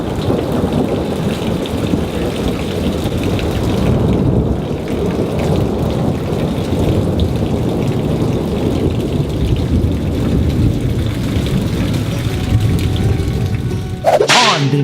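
A thunderstorm in Kentucky, with steady heavy rain and rolling thunder filling the whole stretch, loud and continuous with no talking.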